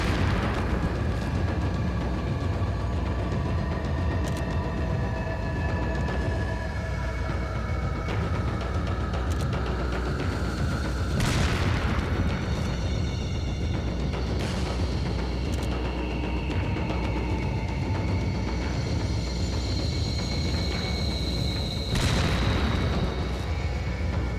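Rifle fire in the video game Resident Evil 4, a few sharp booming shots standing out over a dense, loud wash of game sound and music, with no talking.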